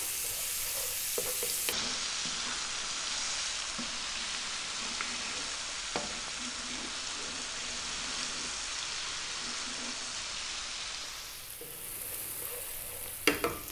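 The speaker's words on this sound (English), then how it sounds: "now we're gonna drop in the 1 cup of onion. And I'm going to be stirring this just for 3 minutes." One cup of onion for fish curry fries in a hot pan, a dense steady sizzle with occasional scrapes and taps of a spoon stirring, close and continuous.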